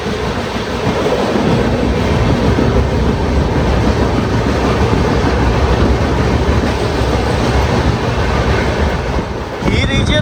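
A passenger train on the Hyderabad to Manali route rumbles loudly through a tunnel, a dense, steady roar of wheels and wind that holds for about ten seconds before easing slightly at the end.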